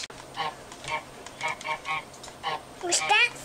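Geese in Untitled Goose Game honk in a string of short, repeated calls with uneven gaps, ending in a louder flurry, while voices talk underneath.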